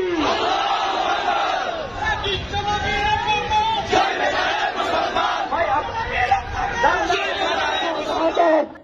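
A large crowd at a Bengali protest rally roars a chanted response to a takbir call, with loud massed voices rising and falling in waves and continuing throughout.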